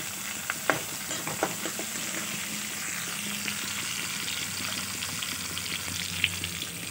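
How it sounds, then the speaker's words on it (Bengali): Chopped onions frying in a pan of spiced oil for a potato and soybean curry, a steady close sizzle with light crackles and occasional stirring clicks, no talk. "পেঁয়াজগুলো লাল লাল করে ভেজে নেব।"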